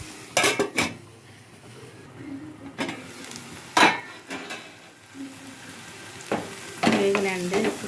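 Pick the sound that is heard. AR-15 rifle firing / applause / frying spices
frying spices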